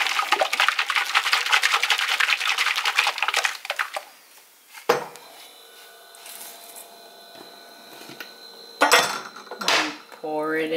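Water is shaken hard inside a blender cup, making about four seconds of rapid, rhythmic sloshing and rattling. Afterward come quieter clinks and handling noises while a person talks.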